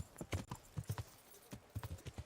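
A horse gallops through a town in the video game Kingdom Come: Deliverance, with quick irregular clusters of hoof clip-clops, sharp and fairly close, arriving in bursts with short gaps between them.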